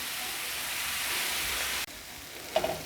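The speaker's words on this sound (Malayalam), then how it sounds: "ഒന്ന് ചതച്ചിട്ട് ഇതുപോലെ ഇത് നല്ലോണം ഒന്ന് വഴന്നു വന്നവരെ വഴറ്റി കൊടുക്കുക" Crushed shallots sauté in a hot pan for a Kerala prawn fry, giving off a steady close sizzle and hiss that drops suddenly and then returns with a brief stirring clatter.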